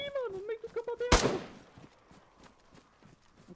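A single sharp gunshot in the video game DayZ cracks out after a short vocal sound, leaving a reverberant tail and a few faint clicks.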